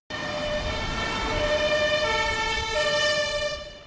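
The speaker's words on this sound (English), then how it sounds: "The light on the fire engine flashes, and you can hear a loud siren." A fire engine siren wails loudly and steadily, a rising and falling electronic tone over a low motor rumble, with no voices.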